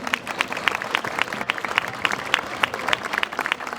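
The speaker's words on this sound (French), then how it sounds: "vous pouvez l'applaudir, merci." Steady, lively applause from an audience at a Traits du Nord draft horse show in Cambrai, many hands clapping at close range for several seconds.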